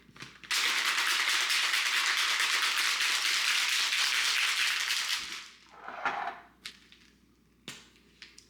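Ice rattles hard and continuously in a shaken blender bottle, an iced coffee drink, for several seconds, then stops, followed by a few scattered knocks and clatters.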